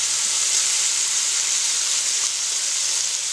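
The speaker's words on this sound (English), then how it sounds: "we're going to add in our monkfish. What we're going to do is we're going to slightly sear it on each side." Monkfish pieces searing in a hot pan among pancetta juices, a dense, even sizzle and crackle of frying that holds steady and close throughout, with no talk.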